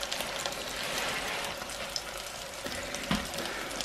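Turkey searing in a pot, a dense, continuous loud sizzle with crackling spatter and a couple of faint utensil knocks, no voices.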